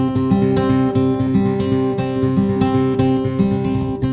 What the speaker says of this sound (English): You could choose to not alternate the bass and just to keep it on one string.